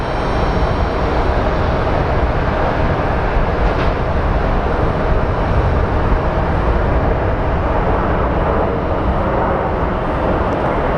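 Airliner landing at Phoenix Sky Harbor International Airport, a loud, steady broadband roar of engines and rushing air that holds throughout without pause.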